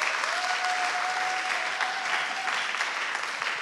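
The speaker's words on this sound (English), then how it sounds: "Can I just get another round of applause for that?" An audience at a hackathon presentation event in London applauds steadily, a dense sustained clapping from many hands that stays loud throughout, with a faint tone running beneath it at first.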